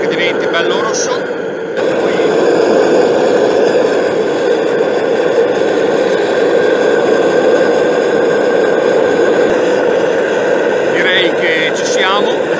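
Gas burner running steadily to heat a metal lathe chuck jaw until it glows red, a constant loud roar with a slight dip near the start and no talk over it.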